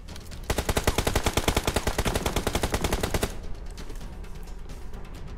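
Rapid automatic gunfire from a PUBG match, a long dense burst of evenly spaced shots that cuts off abruptly, followed by quieter scattered game sounds.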